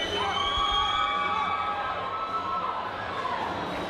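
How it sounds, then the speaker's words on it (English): A boxing-event crowd cheers and shouts in a hall, a dense sustained roar of voices with some higher children's yells, loud and close throughout the few seconds. "both of these guys have had cheering sections here"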